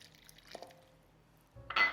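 Two tablespoons of hot water poured over dates for blending into a paste, a short faint trickle and splash close by, ending in a brief louder pour.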